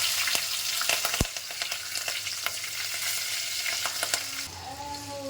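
Curry leaves, green chillies and garlic frying in hot oil in a pan, a close crackling sizzle with scattered pops and stirring clicks, fading slightly near the end, no talk.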